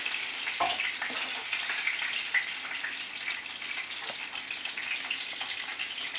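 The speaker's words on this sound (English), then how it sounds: "We're just doing a light fry of the chicken." Chicken sizzles and crackles steadily in hot olive oil on a gas stove, a close, continuous hiss with occasional sharper pops and no talking.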